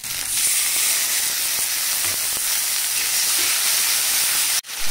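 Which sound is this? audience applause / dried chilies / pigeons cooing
dried chilies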